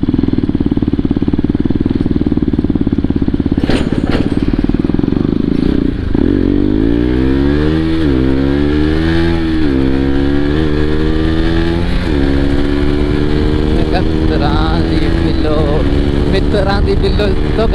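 A KTM RC200 motorcycle with damaged sensor wiring that keeps it from gaining speed runs loudly up close, idling at first and then revving up and down repeatedly in rising and falling sweeps.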